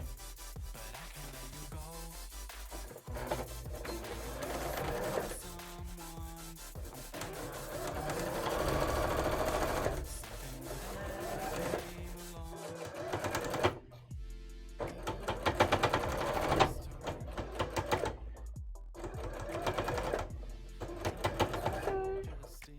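Sewing machine stitching a frill onto a cosplay dress, a close, steady mechanical whirring hum in several long bursts with short pauses between runs.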